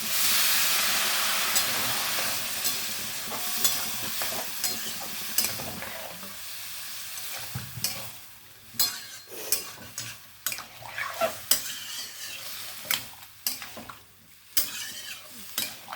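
Water poured into a sizzling pan of potato, onion and poppy seed, stirred with a utensil; loud frying hiss at first, then intermittent scraping and clinks against the pan, with no talking.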